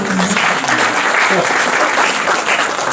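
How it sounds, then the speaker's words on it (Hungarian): Audience applause at a health-supplement presentation in Hungary, a loud, continuous roar of many hands clapping, steady from start to finish with some crowd voices mixed in. "Give yourself a big applause."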